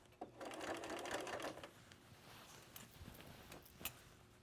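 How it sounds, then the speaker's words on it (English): A sewing machine runs in a short steady burst, stitching fabric for a ruffled collar on a thrifted shirt, then stops, leaving faint clicks and handling noises, close but quiet. "A medium stitch right now, and I'm making sure to back stitch at the beginning there, and I'm just going to ruffle as I go."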